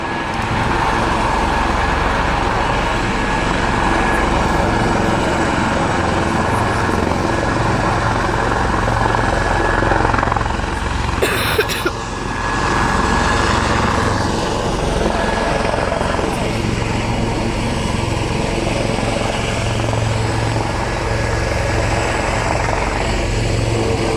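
A military helicopter hovers overhead at an air day while hostages are winched aboard, its rotor roar loud and steady throughout, with a brief sharp burst partway through.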